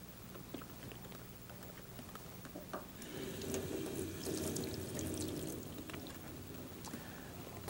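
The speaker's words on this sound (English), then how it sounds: "Fixer, when you pour it in, should be agitated for the first minute thoroughly." Photographic fixer is poured into a film developing tank, a faint liquid trickle and gurgle that swells midway, with small knocks and splashes, quiet and close.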